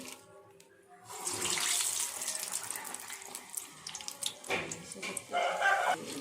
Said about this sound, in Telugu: గారేసేటప్పుడు ఆయిల్ పొంగకుండా మీద పడకుండా జాగ్రత్తగా వేయండి ఇలా తిప్పుకుంటూ ఫ్రై చేసుకోవాలి